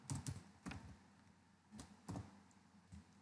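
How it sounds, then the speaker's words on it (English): A web address being typed on a computer keyboard, a few quiet scattered keystrokes in small clusters at close range. "Now type http"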